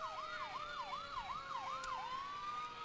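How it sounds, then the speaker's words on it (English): Emergency siren wailing in a rising and falling cycle from a fire truck in a small-town parade, moderately loud over a steady background rumble, settling into a sustained tone near the end. "And I hear the fire trucks."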